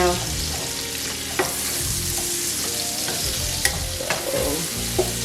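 Chopped onions, already soft after about three minutes, fry in a pan for a cube steak and red wine gravy dish. A steady close sizzle runs throughout, broken by occasional light utensil clicks and stirring, with no talking.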